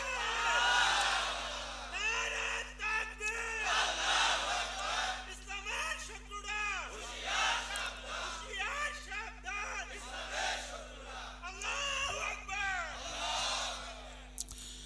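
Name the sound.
congregation shouting takbir loudly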